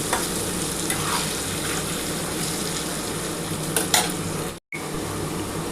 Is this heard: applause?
no